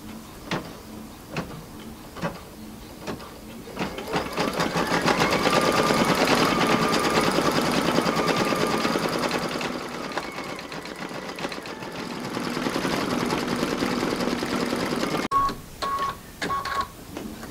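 A home embroidery machine stitches a pattern with rapid mechanical whirring and rhythmic needle clatter, starting with a few separate taps, building to steady running, and ending with short bursts and stops, loud and close.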